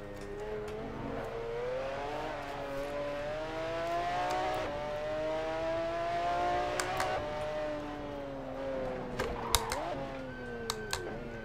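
A McLaren F1 GTR racing engine in Assetto Corsa at Suzuka whines steadily, rising and falling in pitch with revs, faint and distant, skipping, with a few sharp clicks near the end.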